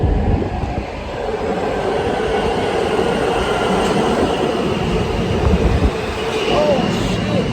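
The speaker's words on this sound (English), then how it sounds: "The F train coming." A New York subway F train pulls into the Lexington Avenue–63rd Street station with a loud, continuous rolling roar and a faint high wheel squeal near the end.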